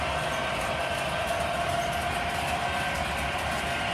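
An MTH model train runs on conventional power with a continuous rolling rumble and faint rhythmic clicking of wheels on track, steady and close throughout, and no voices.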